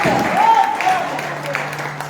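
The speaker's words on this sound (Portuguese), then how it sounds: "pode aplaudir Jesus" A conference congregation applauds, a brief burst of clapping mixed with a voice speaking over it and a singing tone, fading near the end.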